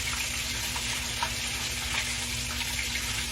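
Hush puppies frying in a skillet filled too high with grease, a steady, dense sizzle and bubbling that stays loud and close throughout with no talk.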